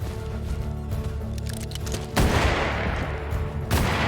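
Gunfire in the Western video game Hard West 2 erupts as a loud, dense burst of overlapping shots, followed by a second blast, over a busy game soundtrack.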